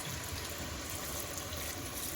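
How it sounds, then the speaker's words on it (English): Water pouring from a kettle into a pot of Guyanese-style curry chicken with potato, a faint, steady trickle and splash at low volume. "Now to this mixture, I'm going to add just some water."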